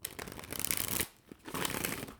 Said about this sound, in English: Quite a bit of effort to shuffle these cards.